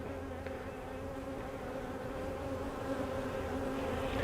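Honeybees in an open hive swarming a wasp or hornet, a steady, close buzzing drone of many insects that slowly builds in intensity with no voices.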